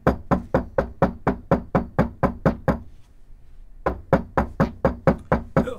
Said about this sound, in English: see what he's got to say when we knock on his door